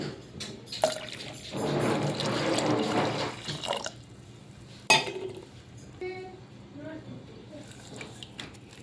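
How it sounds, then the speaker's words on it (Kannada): Water poured into a pot of sambar, a steady close splashing pour lasting a few seconds and ending with a clank of a vessel, followed by quieter kitchen noise with someone talking. "ನಿಮ್ಗೆ ಸಾಂಬಾರು ಎಷ್ಟು ಬೇಕೋ ಅಷ್ಟನ್ನ ನೀರನ್ನ ಹಾಕೋತಾ ಇದ್ದೀನಿ ಇಲ್ಲಿ"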